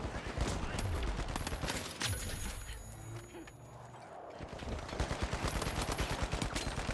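Gunfire in the video game The Finals: steady trains of sharp shots through most of the stretch, dipping briefly in the middle before a renewed burst, with loud game action all around.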